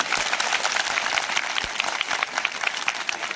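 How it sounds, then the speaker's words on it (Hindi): College audience at a Republic Day ceremony at a government women's college in India breaking into loud, sustained applause, dense clapping with a few sharp individual claps standing out. "इतनी तेज तालियां बजाएं अब, जितनी पहले इस कॉलेज में न बजी कभी"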